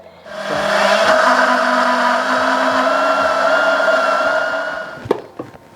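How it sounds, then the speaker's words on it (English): A blender purees roast pumpkin soup made with coconut milk, its motor whirring loudly and steadily for several seconds before cutting off with a clunk and a brief rattle. "I'm going to actually put my whole soup in the blender"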